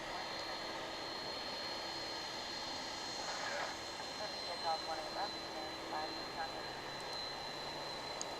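A jet airliner revving its engines at Dallas/Fort Worth International Airport, a steady distant roar with a rising whine, heard beneath someone talking.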